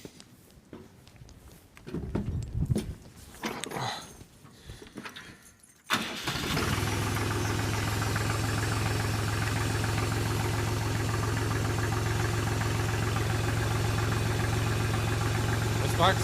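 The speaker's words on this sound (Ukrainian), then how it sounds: "Зараз заведу трактора" A mini tractor engine cranks briefly among some talking and clatter, then catches and settles into a steady, loud, rattling idle that continues to the end.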